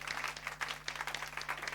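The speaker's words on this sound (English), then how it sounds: "Round of applause for Pigor the Thing Eater." Steady applause from a crowd, dense overlapping claps filling the whole moment with no pauses.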